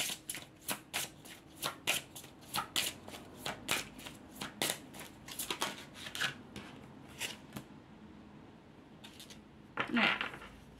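Healing oracle cards are shuffled by hand in a long run of quick, crisp riffling flicks at close range, slowing toward the end with a final louder card-handling rustle.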